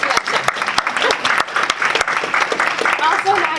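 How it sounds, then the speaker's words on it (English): A lively round of audience applause at a music session, many hands clapping loudly and close, with voices murmuring underneath. "let's give her a round of applause for that"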